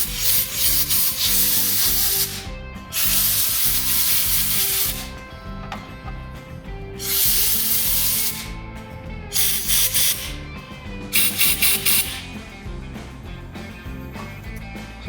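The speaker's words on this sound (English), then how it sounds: "blow some air through there" Compressed air blasting through the carburetor of a 2006 Yamaha Grizzly 660 ATV, loud steady hissing bursts of several seconds each separated by short gaps, close to the microphone with a busy workshop background.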